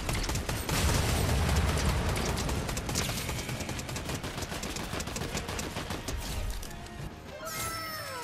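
Rapid gunfire in a video game, a shotgun among it, crackles densely for several seconds as loud overlapping shots and impacts, thinning out near the end.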